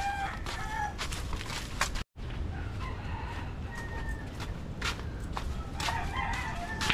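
Roosters crow and chickens cluck nearby, repeated calls over a steady outdoor background with a brief dropout.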